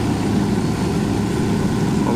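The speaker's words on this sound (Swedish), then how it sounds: "Jag står beredd med helikoptern." Helicopter in a video game set in open wildlands, a steady loud rotor and engine drone that holds constant with no talking over it.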